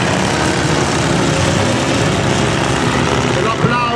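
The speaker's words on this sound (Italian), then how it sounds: "E registriamo magari il rombo" Steady, loud engine roar of a Boeing Stearman PT-17 biplane in flight during an air display, a broad droning rumble that holds level for a few seconds.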